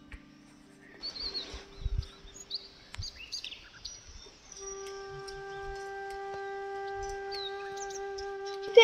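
Birds chirp and call in a hilltop hamlet among tea gardens near Mirik, giving scattered tweets at moderate distance. A sustained droning tone sets in partway through and continues underneath.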